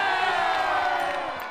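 A crowd cheers and whoops at a street dance competition show, a loud burst of many excited voices that fades slightly at the end.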